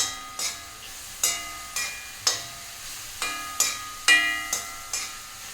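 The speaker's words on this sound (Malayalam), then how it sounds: "കുറച്ച് മഞ്ഞൾപ്പൊടി ഇട്ട് കൊടുക്കണം എന്നിട്ടൊന്ന് ഇളക്കി കൊടുക്കാം" Cut vadukapuli lemon pieces with turmeric powder for an Onam pickle are stirred with a spoon in a metal vessel, producing about eight sharp, evenly spaced clinking scrapes, close and clear without talk.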